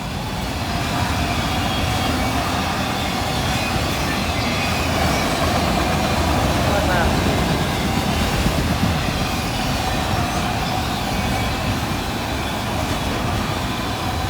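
CSX locomotive 7006 leads a unit auto train rolling past at night in Folkston, a loud continuous rumble and rail roar with faint wheel clatter, steady throughout with no voices.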